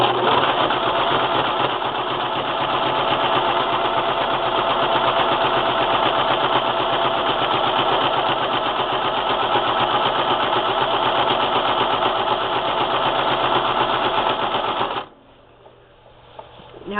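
A sewing machine zigzag-stitches a spool knit rug, running in a fast, steady mechanical chatter for about fifteen seconds before stopping abruptly, followed by faint handling noise.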